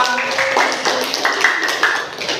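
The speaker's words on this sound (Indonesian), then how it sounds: "Ya, tepuk tangan untuk kelompok 2" Brief classroom applause for a student group's work, a burst of claps lasting a couple of seconds, fairly close and loud, with a few ringing tones mixed in.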